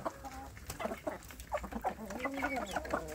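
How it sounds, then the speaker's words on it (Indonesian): Young Indonesian native village chicks clucking and peeping close by, a busy overlapping run of short calls across a hot midday yard with no talking. "Anak ayam kampung saya sudah semakin cepat besar ya sedulur."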